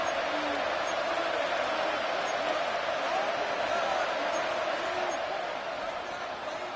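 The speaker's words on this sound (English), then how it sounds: "The crowd cranking it up another notch before 3rd and long" Roar of a large stadium crowd at an American football game between Seattle and Las Vegas, a loud continuous wash of noise that swells steadily with no distinct voices standing out.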